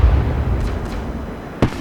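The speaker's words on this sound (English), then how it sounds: "As the fireworks go off" Fireworks burst over victory lane in a racing video game: a dense low rumble of booms with several sharp cracks and pops scattered across the short stretch, fairly loud and continuous.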